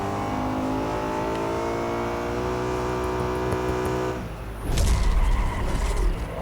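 A BMW M5 engine in the Real Racing 3 game revs hard through first gear, then a sharp gear change into second brings a louder, rougher burst of engine roar, steady and close with no talk.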